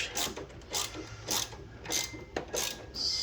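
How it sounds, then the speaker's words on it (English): An Allen key, size 5, torques down a bolt on a Hasport 70mm engine mount in an 8th-gen 2006 Honda Civic Si. Rhythmic rasping ratchet-like strokes repeat about every half second, close and fairly loud, with no talking. "we're going to be using a size 5 to torque this down"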